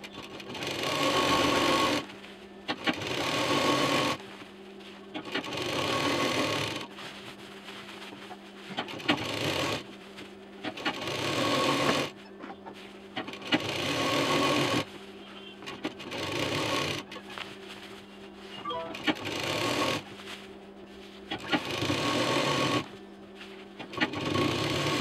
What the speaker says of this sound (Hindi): यहाँ से इसको हम इस तरह से सिलते हुए इसमें चारों तरफ पाइपिंग हम लगाएंगे